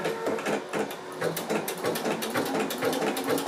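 A Pfaff embroidery sewing machine stitches a tea light design, a continuous rapid mechanical chatter of needle strokes with a steady rhythm, close and unbroken throughout.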